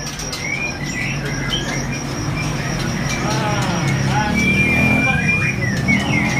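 A male Medan spotted magpie-robin (murai) gives several short, bright chirps and whistled calls at a bird shop, over steady traffic rumble and background noise.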